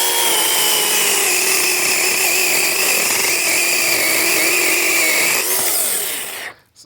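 A DeWalt 8-inch chainsaw cuts through a branch with a loud, close, continuous buzzing whine that holds steady for about six seconds, then winds down and stops abruptly.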